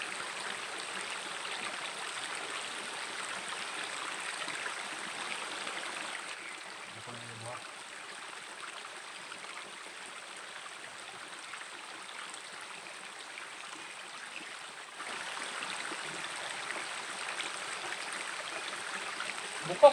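A stream and waterfall at Chikit Falls in a forest pool setting give a steady broadband rush of running water, quieter through the middle stretch and fuller again near the end, with faint voices underneath.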